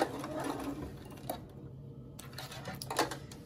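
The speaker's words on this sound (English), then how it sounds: "I'm just gonna go ahead and sew right off of that zipper." Sewing machine stitching along a zipper on a crochet panel bag with lining, a steady rapid mechanical whirring and clatter, briefly pausing then resuming, fairly quiet and close.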